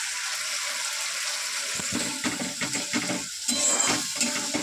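Onions sizzling in hot oil in a pan as a spice paste is added, with steady frying hiss, stirring scrapes and a louder burst of sizzle as the paste hits the oil.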